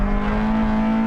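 A hot hatch engine holds a steady, loud droning note during a Nürburgring lap, close-up and continuous for about a second.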